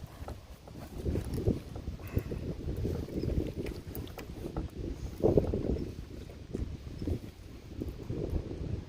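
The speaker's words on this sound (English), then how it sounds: "Oh man, that wind's bad." Wind buffets the microphone on a fishing kayak out on the water, making a low, gusty rumble that swells and fades. It is fairly loud up close, with no talking.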